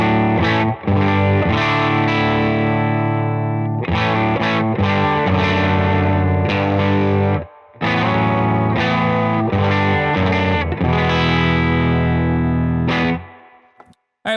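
Scythe Guitars OH20 electric guitar runs into a Benson Amps Monarch reverb amp at the edge of overdrive, strumming full chords with light grit and short breaks between phrases, loud and close, no talking.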